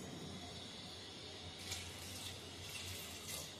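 Water pours steadily into a pressure cooker pot holding chickpeas for chole bhaaji, with a pomegranate piece added. It runs as a continuous close trickle and splash, with no talking.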